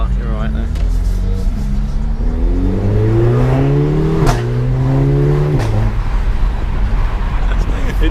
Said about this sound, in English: If you want the sports exhaust, which you definitely do want, the noise of that is ridiculous.